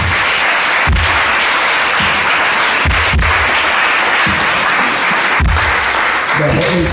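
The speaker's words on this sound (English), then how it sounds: "Why don't you clap your hands to Jesus?" A congregation at a New Year's crossover night vigil service claps hands in a loud, close rhythmic beat, steady pulses repeating through the whole stretch.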